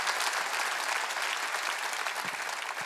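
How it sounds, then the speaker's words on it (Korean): A church congregation at a Wednesday worship service breaks into steady, dense applause that fills the hall at an even level, with no voices standing out above the clapping. "박수 치려면 치고 말래"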